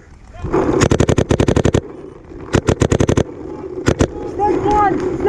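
Paintball markers fire during an Australian Super 7s tournament game, heard as loud, sharp rapid-fire bursts of pops from close by, separated by short pauses, with shouting voices in between.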